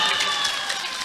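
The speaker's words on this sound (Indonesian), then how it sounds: "Tepuk tangan." Audience applause at a Madurese religious lecture, a dense steady patter of many hands clapping throughout, fairly loud and continuous with no pauses.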